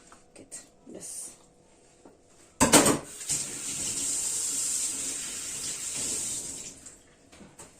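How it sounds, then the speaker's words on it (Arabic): Hands are washed under a running kitchen tap while cooking a chicken and vegetable casserole, with a faint clink of dishes first, then a sudden gush of water that streams steadily for several seconds before shutting off. "طبعا لازم بقى الواحد كل ما يعمل حاجه يغسل ايديه"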